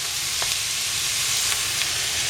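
Turkey sausage with onions and zucchini sizzles steadily in a pan, a dense, even hiss with faint ticks and pops throughout.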